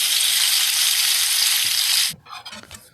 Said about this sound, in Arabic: جبت بقى الزيت وقليت البتنجان